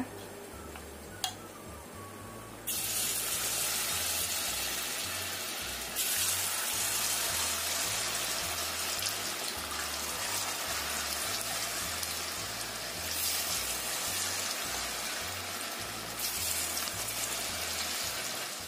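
Snacks deep-frying in hot oil, a steady dense sizzle and crackle that swells louder after a few seconds and keeps bubbling evenly throughout, with a faint rhythmic ticking underneath.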